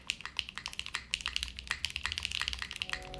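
Rapid typing on a Zoom 75 mechanical keyboard, a close, steady stream of crisp keystrokes with uneven rhythm and no talking.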